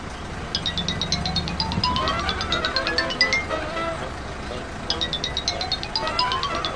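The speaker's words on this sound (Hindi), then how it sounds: "सर आपका फोन बज रहा है, या तो इसे उठा लीजिए या फिर साइलेंट कर दीजिए।" A mobile phone ringtone rings in repeated bursts of bright electronic beeping with a rising melodic line, pausing briefly and then starting again, heard close and clearly over low background hum.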